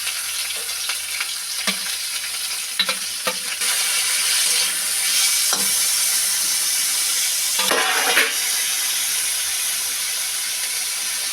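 Prawns fry in a wok of mustard oil with garlic, ginger, dried and green chillies and onion, a loud steady sizzle and hiss with occasional sharp clinks and scrapes of stirring.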